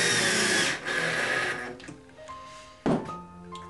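A power driver runs screws into wood while an owl box is assembled, a loud buzzing whir for about a second and a half, then quieter handling clunks and a sharp knock near the end.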